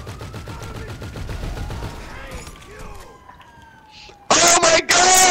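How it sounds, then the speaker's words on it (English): Rapid gunshots ring out in GTA V Online, a fast burst of loud, close firing that breaks in sharply after a stretch of rattling vehicle and game noise. "I'm gonna shoot him."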